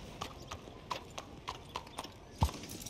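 Horse hooves clip-clopping in Red Dead Redemption 2, a few spaced, moderately loud hoof strikes as the horse slows to a stop, with one heavier thump near the end.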